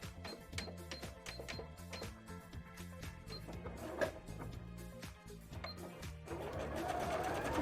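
A sewing machine zigzag-stitches a bra strap, running in short start-stop bursts of rapid mechanical clatter with a busier whirring stretch near the end, close and steady throughout.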